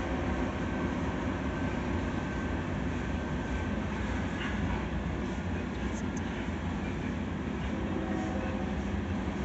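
A CSX freight train rumbles past in Flomaton, Alabama, as a steady, loud, continuous roar of wheels and rail noise that holds throughout with no break.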